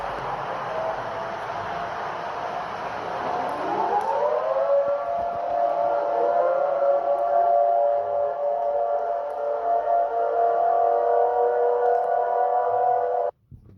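Jamaica emergency alert siren, a loud wailing tone that sweeps up in pitch, then holds a steady multi-toned blare for several seconds before cutting off abruptly.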